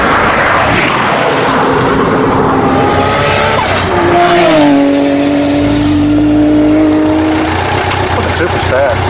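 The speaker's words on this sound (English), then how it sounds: "The Supra allows the Lamborghini a little bit of a jump, knowing that it's got enough horsepower to chase it down" A Toyota Supra and a Lamborghini race side by side, their engines accelerating loudly with rising, sustained tones as the turbo boost comes on. A commentator's voice talks over the constant roar of the engines.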